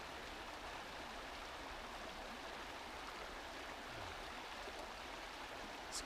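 A river flowing at a backpacking crossing on Big Brushy Creek, a steady close rushing wash of water that stays constant throughout with no voices.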